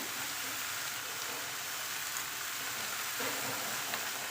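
Potatoes and drumsticks sauté in a pan, giving a steady, close sizzle with soft stirring scrapes throughout and no voices.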